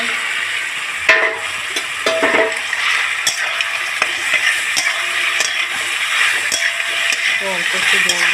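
Crabs frying in a spiced pan, with a steady sizzle and intermittent scraping and knocking of a stirring utensil, close and fairly loud, with brief speech over it.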